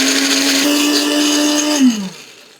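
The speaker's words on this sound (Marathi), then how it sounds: "झाकण लावूयात आणि मिक्सरमध्ये हे व्यवस्थित पेस्ट तयार करूयात" A kitchen mixer grinder whirs loudly and steadily as it blends soaked dried red chillies with a little water into a paste, then spins down and stops near the end.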